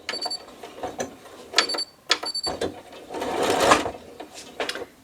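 Sewing machine stitching a churn dash charity quilt block, rapid mechanical whirring bursts broken by short stops and clicks, close and loud, with faint speech in places.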